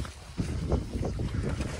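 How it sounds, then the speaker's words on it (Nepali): Wind gusts through the mountain village of Ghelchowk in Manang, Nepal, near greenhouses, buffeting the microphone as low, rough rushing bursts that pulse unevenly over a couple of seconds. "हावा चलिरहेको छ"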